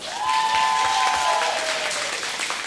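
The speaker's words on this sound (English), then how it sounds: "give your guys another big round of applause" An audience claps steadily and loudly for the kids at a kids' wrestling show, a dense wash of applause with a brief tonal whistle over the start.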